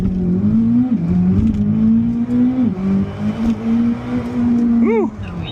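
A 1,064 hp Corvette ZR1 launches hard from a standstill in launch mode, its engine holding a strong droning roar with wavering pitch as the tires struggle for traction, while people talk over it.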